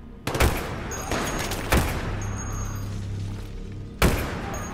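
Battlefield 3 sniping: three sharp, loud gunshots spaced a second or two apart, each with a booming tail, over a low steady game rumble.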